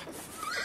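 A horse neighs in a single short whinny, fairly close and clear, with no talk over it.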